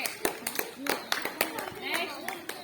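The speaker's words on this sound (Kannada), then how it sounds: "ಚಪ್ಪಾಳೆ ಹಾಕ್ರಿ ಅವರಿಗೆ" Sixth-grade students clap in a classroom during a maths activity, a short burst of irregular sharp hand claps close by, mixed with children's voices talking.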